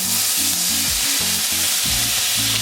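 Loud steady sizzling of lemon juice hitting a hot frying pan, with a continuous crackling hiss and a low rhythmic stirring or scraping pattern throughout, no talk.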